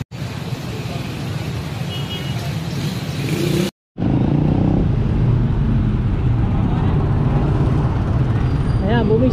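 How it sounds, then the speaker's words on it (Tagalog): Busy street traffic in Angeles City, with a mix of motorcycles and cars passing close by in a steady, dense roar, briefly cut to silence near the four-second mark before the traffic resumes just as loud. "So yan po ito yung traffic ngayon dito sa may Angeles City."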